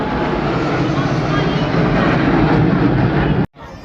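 Sukhoi 30 MKI fighter jets fly over the Republic Day parade at India Gate, making a loud, continuous broadband roar that holds steady before cutting off abruptly near the end. A commentator's voice runs underneath.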